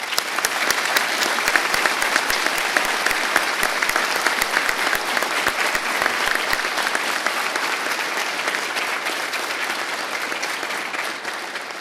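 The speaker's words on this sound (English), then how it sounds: "Please join me in a round of applause." An audience at a firefighter recruit academy graduation ceremony gives sustained applause, a dense even roar of many hands clapping that holds steady for about twelve seconds, with sharp individual claps standing out early on.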